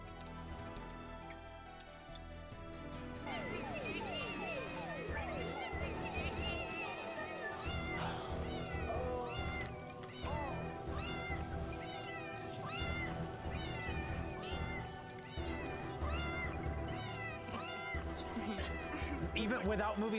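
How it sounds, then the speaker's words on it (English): A cat meows repeatedly within a film soundtrack, its cries rising over music and other mixed sound that run throughout at a moderate level. "there's meowing happening, so you know that there's a cat around"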